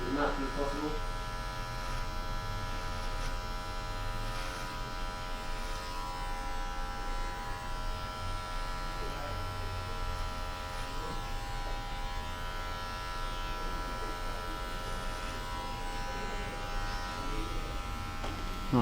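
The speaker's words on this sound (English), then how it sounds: "So I'm gonna start here with my clipper open." Electric hair clipper buzzing steadily throughout a barber's haircut on long hair and beard, a continuous close motor hum with faint snipping-like texture and no talk over it.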